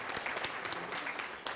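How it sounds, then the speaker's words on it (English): Brief, faint applause from an audience at the Broadband Ghana Forum 2017, a short spread of many hands clapping heard at a distance for under two seconds. "Let's give a hand of applause"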